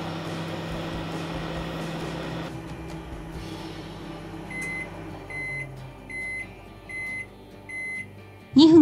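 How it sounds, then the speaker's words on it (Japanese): A 1430 W microwave oven heating 350 ml of cold water, a steady low hum that stops partway through, followed by a series of evenly spaced completion beeps and then a clunk. "定格消費電力 1430W の電子レンジが動作するか確認します。 今回は 350ml の冷水を加熱します。"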